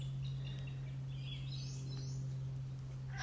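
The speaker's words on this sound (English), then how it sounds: "there are birds singing all around me" Birds sing all around in still outdoor weather, faint scattered chirps and short rising calls over a steady low hum, with no voices.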